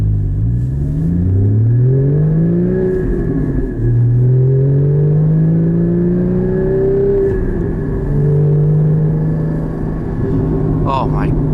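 A 2016 Porsche Cayman GT4 engine revs through several rising pulls while driving, its pitch climbing, dipping at each shift and climbing again, loud and close from inside the car, with a brief high squeak near the end.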